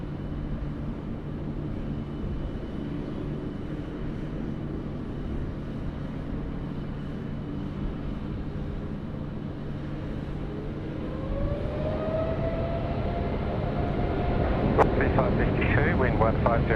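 A Qantas airliner taking off from runway 16 right at Sydney starts as a low, steady engine drone, then the roar builds over the last few seconds with a rising whine as thrust increases. Speech is mixed in underneath.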